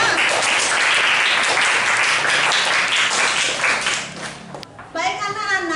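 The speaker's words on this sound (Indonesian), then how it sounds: "Sekali lagi tepuk tangan untuk yang sudah mampu menyelesaikan ya." Classroom applause as students clap for classmates who finished a quiz, brisk and close for about four seconds, then fading as a voice begins speaking at the end.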